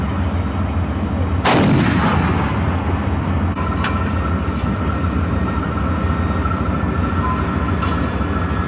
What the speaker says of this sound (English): The tank teams are qualifying by firing at stationary targets on the range.